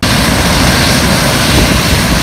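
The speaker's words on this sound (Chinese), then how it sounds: "台东空勤队立刻出动直升机，将这名男子成功的后送到台湾来治疗。" A Black Hawk rescue helicopter roars loud and close, its engine and rotor producing a dense, unbroken wash of noise that persists for the whole short stretch.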